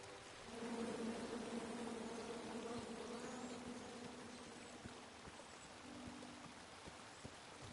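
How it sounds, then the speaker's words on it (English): Bees buzz in the King's Quest video game, a steady droning hum that swells and holds throughout, with a faint wash of background noise. "Come at me, bees!"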